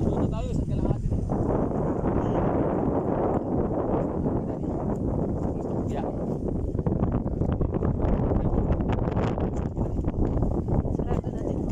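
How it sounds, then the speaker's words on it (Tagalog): Strong wind buffets the microphone on a farm in a steady, loud broadband roar that never lets up, with people talking over it. "Grabe yung hangin. Bongga yung hangin ah."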